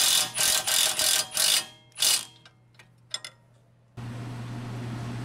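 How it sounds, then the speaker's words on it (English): An impact wrench runs down a rear upper control arm bolt on a 2016-2021 Honda Civic, rattling in several close, loud bursts that ease into softer clicks, followed by a steady mechanical hum. "I'm just gonna take my impact and we're gonna run this down."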